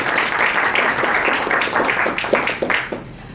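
Audience applause at a groundbreaking ceremony for Malaysia's net-zero-carbon pavilion at the Expo in Dubai, a steady wash of many hands clapping that fades near the end.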